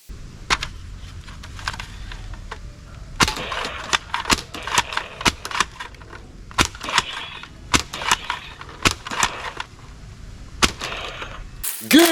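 Nerf toy crossbow firing, a string of sharp dry snaps and clicks scattered irregularly through the stretch, fairly close, with quieter handling rattles between shots.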